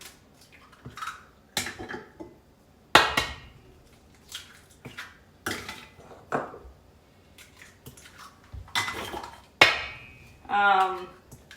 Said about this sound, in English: So now I'm going to break 1 egg at a time.